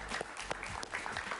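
Steady applause from a studio audience for Enrique Capriles at the close of a televised interview in Bogotá, dense and continuous clapping with no voices over it.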